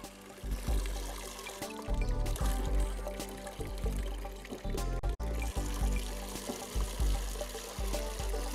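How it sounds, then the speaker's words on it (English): Water pours and trickles from a bucket onto flowers outdoors at a school, a close, continuous splashing stream with a few short breaks. "I come and show you how to watering the flowers there."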